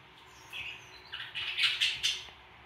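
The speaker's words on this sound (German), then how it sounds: "Jetzt bin ich gerade wieder aus dem Vogelzimmer rausgegangen, jetzt schreit sie wieder rum." A pet bird screeches from the bird room, a few shrill bursts rising and falling over about two seconds, heard through the house at moderate distance with no talk.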